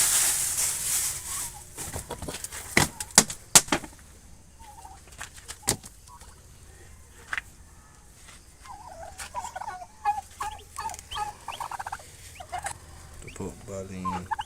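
Several turkeys gobble in bursts, close by, with scattered clucks and farmyard clatter between the calls.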